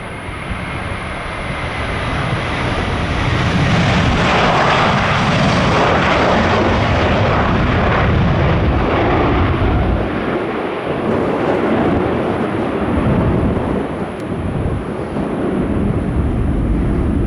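Airliners at Orlando International Airport on a windy day: a loud, continuous jet engine roar that swells and holds for many seconds, with rushing wind noise and no talking.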